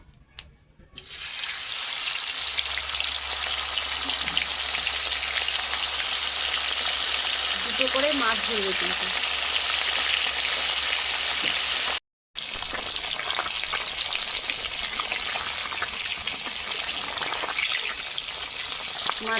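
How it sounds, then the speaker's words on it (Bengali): Pomfret fish frying in hot oil make a long, steady hissing sizzle, close and fairly loud, with a faint voice murmuring briefly in the middle and a short break before the sizzle resumes. "তেল গরম হয়ে গেছে মাছ দিয়ে দেবো"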